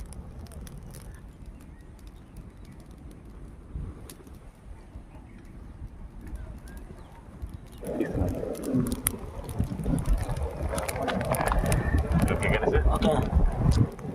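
Gusty outdoor wind blowing over a cooking fire in a hilly tribal village, a low rumbling roar that starts moderate and grows noticeably stronger and fuller partway through.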